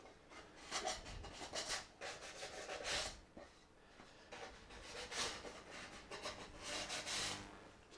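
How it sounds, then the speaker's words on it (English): A small piece of sandpaper is rubbed by hand over the edges of a wooden dovetail frame, making faint, close, scratchy strokes in irregular bursts with short pauses between them. "So, a little piece of sandpaper."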